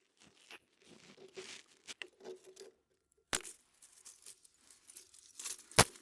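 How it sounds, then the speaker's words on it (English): Pruning shears cutting dry twigs on a climbing rose, soft rustling and crunching of stems followed by two sharp snipping clicks, close and quiet, no speech. "so we just need to cut it out"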